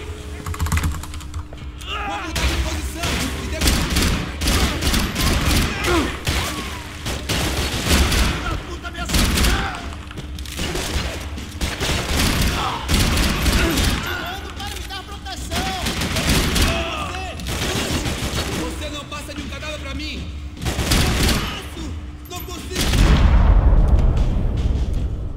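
Pistols fired two at a time and a shotgun in a modded Skyrim game crack out in dense, repeated bursts throughout, loud and close, mixed with keyboard clatter and game noise.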